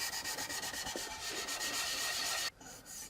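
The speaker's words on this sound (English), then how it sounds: "sand in a circular motion. It's a little bit like a random orbital sander" Wood being hand-sanded in a circular motion, a close rhythmic scrubbing rub that repeats steadily for about two and a half seconds, then drops away into a quieter brief scrape.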